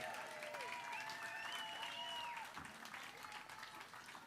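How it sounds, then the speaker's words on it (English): Applause from a crowd at a 2019 rally against the Mountain Valley Pipeline, steady and moderately loud across the whole stretch, with a voice or tone faintly mixed in. "give Jamie a big round of applause for sharing his truth with us"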